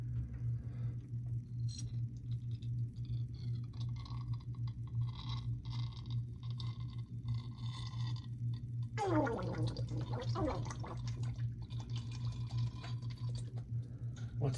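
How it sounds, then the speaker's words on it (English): Bubbling water as air is blown through a straw into a soda bottle submarine's ballast tanks, with a burst of gurgling bubbles about two-thirds of the way through over a steady low hum. "Take the end of your straw and just blow into it."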